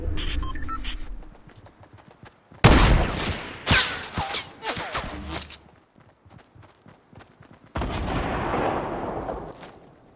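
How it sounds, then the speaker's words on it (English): Gunfire in the video game Fortnite crackles in loud bursts and rapid volleys, with dense shooting near the start and a sustained barrage toward the end. "They're shooting at us."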